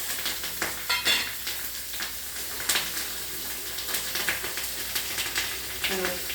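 Asafoetida and turmeric go into hot oil with cumin for a tempering, giving a soft, steady sizzle with scattered stirring clinks and spoon scrapes in a home kitchen.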